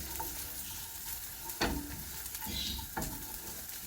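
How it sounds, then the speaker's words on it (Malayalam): Chopped onion cooking in butter in a pan, with a soft continuous sizzle broken by a few sharp scrapes and clanks of stirring, and no talking. "ബട്ടർ തന്നെ കുറച്ച് സവാള ഇട്ട് കൊടുക്കാം."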